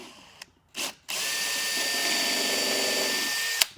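A power drill bores a pilot hole for mounting an undermount drawer slide in a cabinet: two short whirring bursts, then a sustained high-pitched drilling whine for about two and a half seconds, ending in a sharp click, close and loud.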